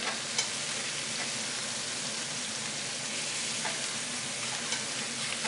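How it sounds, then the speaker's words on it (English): A pot roast searing in an oiled pan over fairly high heat, an even, continuous sizzle with faint crackles and no talk. "Now I'm searing the roast in a pan to get it browned on all sides."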